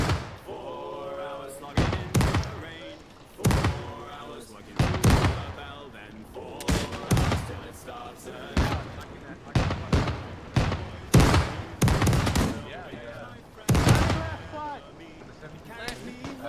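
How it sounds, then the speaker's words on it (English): Cannon fire in a naval combat video game, a series of loud booming shots at irregular intervals amid shouted voices. "I'll get a main cannon."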